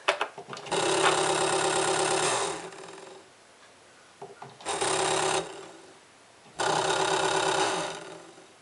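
A Cascade 1500 canister aquarium filter motor with a newly replaced impeller runs in loud, steady bursts of mechanical whirring, cutting off and starting again three times with quieter gaps between.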